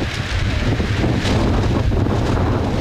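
Strong wind buffets the microphone in a steady, loud roar with gusty rumbling, no voices present.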